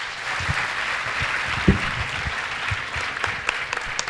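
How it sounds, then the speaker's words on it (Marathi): An audience at a lecture event in Latur applauds a speaker, sustained, evenly dense clapping throughout with a few sharper individual claps standing out close by. "सरांसाठी जोरदार टाळ्या होऊ देत एकदा"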